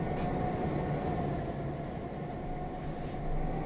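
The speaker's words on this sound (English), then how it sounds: "That diesel sound is the F units for the beer train." A steady low diesel rumble with an even mechanical drone, continuous and moderately loud, from F-unit diesel locomotives idling nearby.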